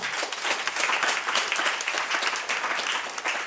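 A church congregation applauds, a dense, continuous burst of many hands clapping together, loud and close throughout the short stretch.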